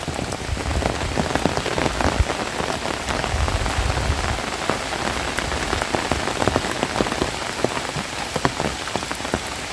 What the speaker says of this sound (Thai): นี่ก็เช้าแล้วแต่ฝนตกหนักนะ